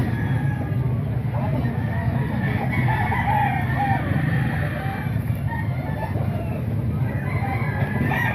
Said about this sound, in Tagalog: Dami rin manok na sir.